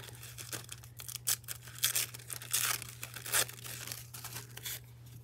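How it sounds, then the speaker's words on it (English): Scissors snip and rustle through paper in a series of irregular, crisp bursts over a steady low hum, close by and fairly quiet. "and then I'll do some scissors"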